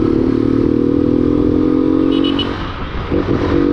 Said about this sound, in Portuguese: Essa motinha é foguete.